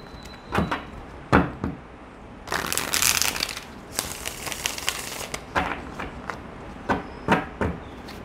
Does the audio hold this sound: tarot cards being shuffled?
yes